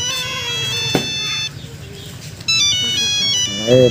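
A melodic electronic phone ringtone plays loudly, its repeating tune stopping and restarting, with a brief voice near the end.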